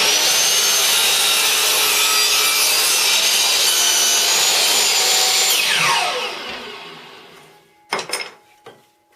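A hand saw cuts steadily through a piece of wood for a crossbow build, its rasping strokes loud and continuous before they slow and stop, followed by a couple of light knocks.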